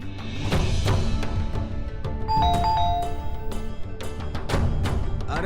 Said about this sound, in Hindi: अरे सुनो, घंटी बज रही है, देखो तो कौन है।